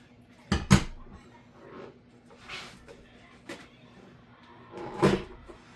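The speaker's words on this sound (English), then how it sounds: "I have the cover to the pan, and I'm gonna see if I can flip this" Metal pan lid clanks against a bread pudding pan while it is turned over, with a couple of sharp close knocks followed by softer scrapes and a final rattle in a quiet kitchen.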